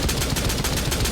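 CAMRS marksman rifle firing in Rainbow Six Siege, a dense burst of loud, close shots in quick rhythmic succession filling the whole moment.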